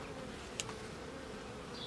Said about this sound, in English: There's a bee right, like, look at him.